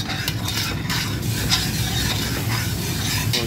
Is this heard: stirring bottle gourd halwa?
yes